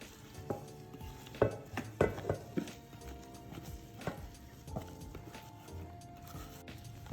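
Urad dal batter with onion, green chili and ginger being stirred in a bowl, giving soft, scattered scraping and knocking sounds with a few sharper clinks, quiet throughout.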